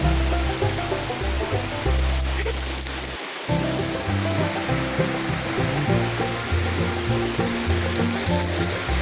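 A waterfall roaring as a dense, steady rush of falling water, loud and close throughout, with low rumbling thumps from wind or handling.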